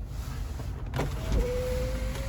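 The electric sunroof motor of a 2014 Toyota Camry 2.5 automatic starts about a second in and runs as a steady, close whirring whine with a faint mechanical rumble beneath it.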